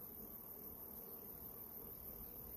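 Honey bees buzz at a beehive in a steady, faint, continuous drone with no talking.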